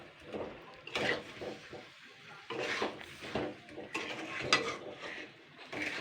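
Mango pickle being stirred in a pan as the fruit releases its juices, giving repeated scraping and clinking of a utensil against metal in uneven bursts, close and moderately loud, with no talking.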